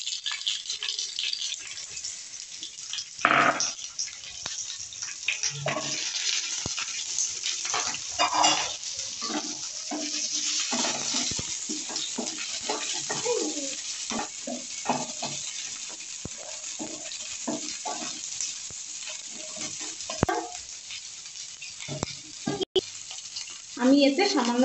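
Capsicum and onion frying in a pan after garlic and ginger, a steady close sizzle with repeated stirring scrapes and clinks running throughout.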